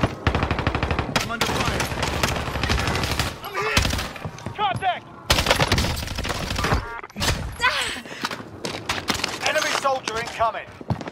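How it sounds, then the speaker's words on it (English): Rapid bursts of submachine-gun fire from the Bullfrog SMG in a Call of Duty Rebirth match, loud and close, with repeated automatic volleys, impacts and short pauses between them. "I'm under fire! I'm hit! Contact!"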